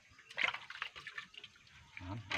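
Catfish and eel being rinsed in water, heard as faint, close splashing and sloshing in a few short bursts.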